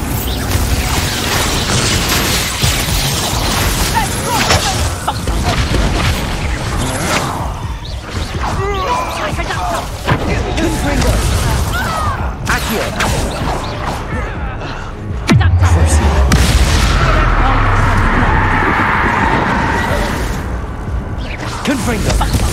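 Bombarda spell explosions in the Hogwarts Legacy video game, repeated booms and crashing blasts amid whooshes and busy combat noise, with a voice speaking at times.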